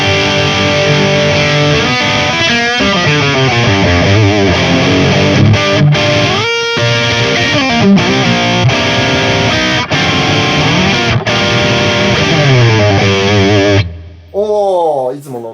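Electric guitar driven through a JACKAL MIDNIGHT distortion pedal into a Marshall amp: loud, saturated chords and riffs with sharp stops, close and dense, with a voice speaking briefly near the end.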